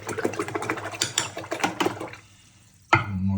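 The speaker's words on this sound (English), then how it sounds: "Slosh that about." Water in a toilet pan sloshed and swirled by hand, a close splashing churn that stops, then a short sharp splash near the end.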